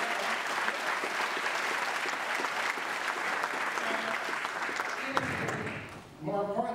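Sustained, dense clapping from a crowd at a film screening event, loud and even for several seconds before fading out, followed by a voice starting to speak.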